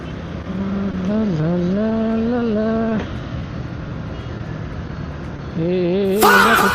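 Vehicles on a highway at night, with tonal engine drones rising and falling as cars pass close by, two distinct passes separated by quieter road rumble, ending in a louder burst.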